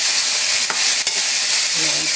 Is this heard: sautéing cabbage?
yes